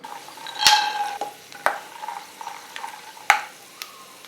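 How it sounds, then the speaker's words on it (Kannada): Peanuts fry in a pan of hot refined oil, giving a faint sizzle broken by a few sharp metallic clinks of a spoon against the pan. "ಎಣ್ಣೆ ಕಾಯಿದ ಮೇಲೆ ಒಂದು ಮೂರು ಸ್ಪೂನ್ ಕಡಲೆ ಬೀಜ ಹಾಕ್ತೀನಿ"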